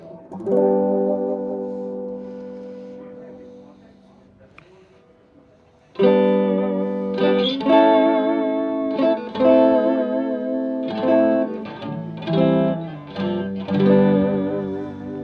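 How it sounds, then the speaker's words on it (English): G&L electric guitar on its bridge pickup rings out a sustained note with a wavering tremolo, then a run of twangy, slightly effected notes and chords, with no talking. "that is the sound of the bridge of the G&L"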